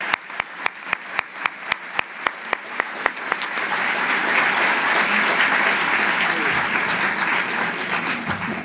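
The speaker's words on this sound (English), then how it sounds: "the people applauding" A lecture audience applauds a cardinal's talk: a few loud, evenly spaced single claps open, then the whole room joins in a dense, sustained roar of clapping that carries on to the end.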